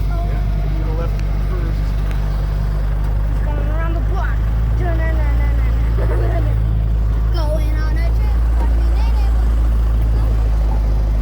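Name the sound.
Jeep driving, noisy engine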